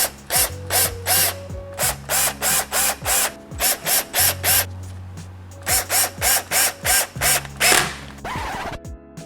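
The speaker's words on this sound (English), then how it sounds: "Now we can just reinstall these Phillips screws." A ratcheting driver reinstalls Phillips screws on a Toyota Tundra light housing, giving close, loud bursts of rapid clicking in regular, evenly spaced groups, with brief pauses between screws and no talking.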